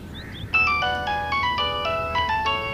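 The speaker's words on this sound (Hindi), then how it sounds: "भाई फोन बज रहा है" A mobile phone ringtone plays a bright, repeating electronic melody, loud and close, starting after a brief quiet moment.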